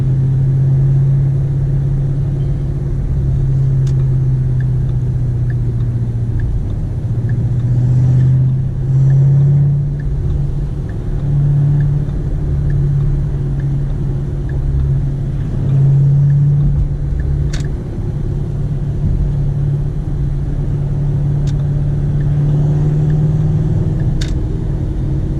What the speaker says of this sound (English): The exhaust is pretty loud, so it makes it kind of hard.